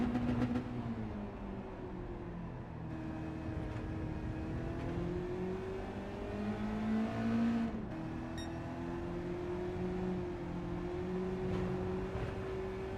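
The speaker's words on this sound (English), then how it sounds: "Car's driving so slowly." Mazda race cars in a racing video game drone on with a continuous engine whine that rises and falls through gear changes, steady and moderately loud with no talk.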